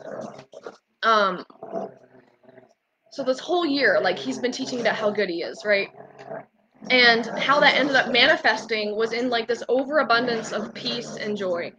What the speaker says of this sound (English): I'm so sorry if you hear all this growling in the background.